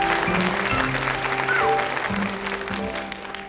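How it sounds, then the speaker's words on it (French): A television studio audience applauds a contestant's entrance on a 1982 French children's talent show, a steady broad patter of clapping with music tones running underneath that fades toward the end. "Viens François, on t'applaudit."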